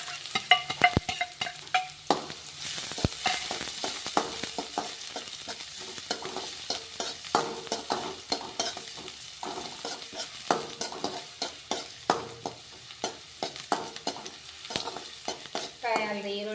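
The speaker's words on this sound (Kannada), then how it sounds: "ಫ್ರೈ ಆಗಲಿ ಈರುಳ್ಳಿ, ಗೋಲ್ಡನ್ ಕಲರ್ ಬರುವವರೆಗೂ ಉಳ್ಳಿಗಡ್ಡಿ ಫ್ರೈ ಆಗಲಿ." Onions fry in a pan with green chillies, sizzling steadily while a spoon stirs and scrapes through them in frequent clicking strokes, close and moderately loud, with no talking.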